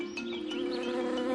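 Giant hornets swarming a raided European honeybee hive make a steady, close, continuous insect buzz and drone with wavering higher whines, no voices.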